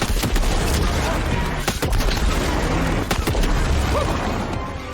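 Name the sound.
gunfire shooting spawned balls in Shadow Warrior 3, from a video game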